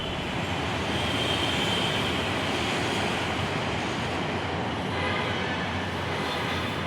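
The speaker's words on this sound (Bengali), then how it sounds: "নাগপুর মেট্রোয়ে মাত্র 3টে বগি, ছোট্ট একদম" A small three-coach Nagpur Metro train runs in a steady, continuous roar of wheels and carriage noise from start to end, with no talk.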